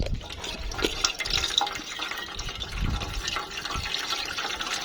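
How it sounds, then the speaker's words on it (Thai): Water from a freshly cracked coconut pours and splashes into a container close by, a steady liquid gurgle with a few brighter trickles, alone for about five seconds. "เฉาะเพื่อเอาน้ำออกก่อนนะครับ"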